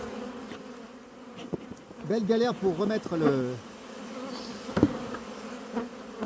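Bees buzzing at an open beehive in late summer, a close, continuous insect hum with swelling, wavering pitch, while a person speaks briefly over it.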